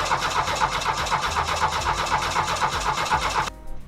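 A turbodiesel engine, just fitted with a swapped injection pump and with its injectors lifted out, cranks over on the starter. The chugging is loud and rhythmic, then cuts off abruptly near the end.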